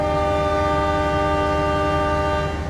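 The Joglo Semarkerto passenger train sounds a long, loud, steady horn blast as it departs Kedung Jati station, close by and sustained throughout.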